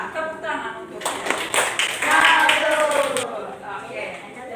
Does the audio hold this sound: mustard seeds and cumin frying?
no